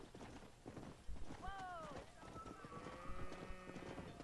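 Horse hooves clip-clopping at a quick pace in the Red Dead Redemption video game, a steady run of hoofbeats mixed with game sounds and a voice talking over it.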